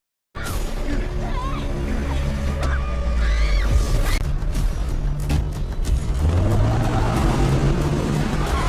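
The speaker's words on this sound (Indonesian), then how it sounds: "Orang itu pun langsung mengambil mobil tersebut dan mengejar Elisa" A car drives off in a chase, its engine rumbling and rising in pitch as it pulls away, fairly close and continuous, with some whooshing passes over a dramatic background.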